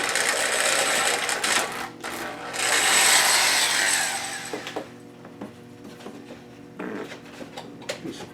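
An electric drill bores holes through a 2x6 wooden board, giving a loud whining grind that swells and fades in bursts, then drops to quieter knocks and handling clatter.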